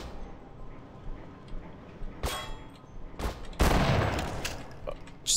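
Shotgun blasts in the Half-Life video game: three sharp, loud shots spaced unevenly over a few seconds, the last one biggest with a lingering ring and clatter, against a low game ambience.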